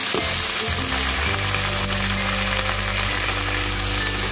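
Water hits a hot pan of spicy sweet-soy stir-fried baby squid and erupts into a loud, close, continuous sizzle that holds steady throughout, with a low background hum and no speech.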